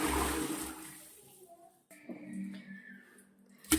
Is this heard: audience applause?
no